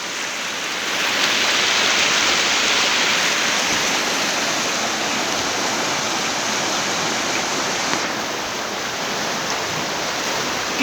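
A large volume of river water flows on toward the Indus, making a loud, steady, broadband roar close by that never lets up.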